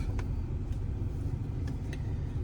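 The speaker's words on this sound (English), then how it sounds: "Might be a little bit noisy because of AC and stuff." An air conditioner fills a room with a steady low hum and rumble, quiet and continuous, with a few faint clicks.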